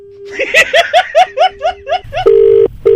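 A telephone line sounds after a caller hangs up during a Red FM radio prank call: a short tone, then a quick series of rhythmic beeps, then a long steady tone that breaks off and resumes, close and loud.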